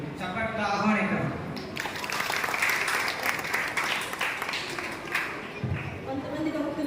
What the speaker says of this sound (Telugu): చప్పట్ల ఆహ్వానికరం